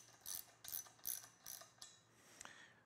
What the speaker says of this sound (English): The final step is to tighten the screw